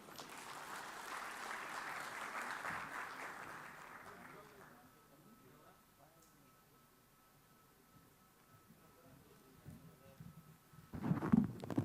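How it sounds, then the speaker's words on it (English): Faint applause from an audience lasts a few seconds and then fades out, followed by quiet room sound and some low murmuring voices. "A huge round of applause for Gaurav."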